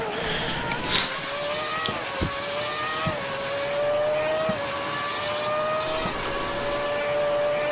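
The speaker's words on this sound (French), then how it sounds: "Passage de vitesse moisi." A race car in RaceRoom Racing Experience holds a steady high engine drone, with a brief gear-shift blip and a few clunks early on, and the revs settle and carry on evenly afterward.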